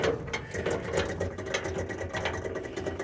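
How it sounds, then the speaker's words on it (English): A steady mechanical whirring hum with a fast rattling texture from a rat rod car's electric cooling fan running continuously close by, no voices. "I hear an electric fan, so apparently there's some juice in the battery."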